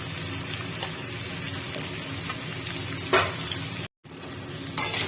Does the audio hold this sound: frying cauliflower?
yes